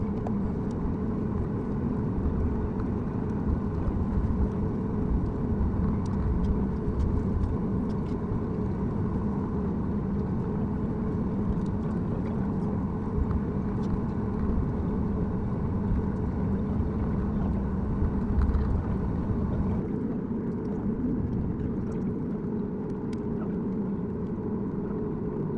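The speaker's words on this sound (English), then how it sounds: "we taxied onto the runway for takeoff on DCA's runway 1" A passenger jet taxiing onto runway 1 at Washington's DCA before takeoff, heard from inside the cabin as a steady, loud low engine drone and rumble with faint rattles, no talking.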